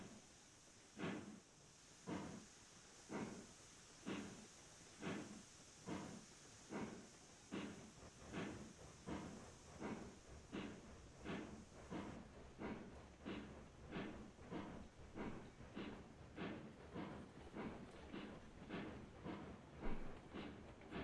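A 2-4-0 steam locomotive in the game Railroads Online chuffs in a steady, evenly spaced rhythm that quickens slightly over time, with a constant hiss of venting steam beneath, with no talk.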